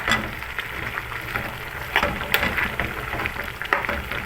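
Chicken pieces seasoned with salt and pepper sizzle steadily in a frying pan as they are turned, a continuous crackling hiss with a few sharper pops and scrapes, close and moderately loud, with no talking.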